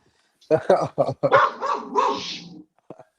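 A dog barks and yips loudly nearby in a quick run of overlapping barks, with a growly drawn-out note at the end, then a short lull.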